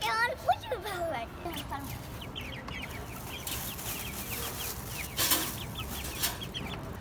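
A domestic hen of a local breed clucks in a farmyard setting, repeating short clucks that rise and fall at moderate loudness, with other faint bird calls and background noise underneath.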